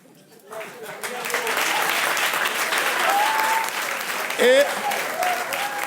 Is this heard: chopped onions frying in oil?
no